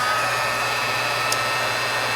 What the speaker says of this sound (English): And now I'll just turn on the heat gun.